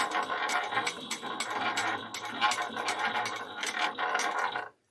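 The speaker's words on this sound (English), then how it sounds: "I'm going to stitch this down using 1/8 of a single ounce," A sewing machine stitches down the seam on a bag in a quick run of rattling mechanical clicks that carries on for about five seconds, close and fairly quiet, then stops abruptly.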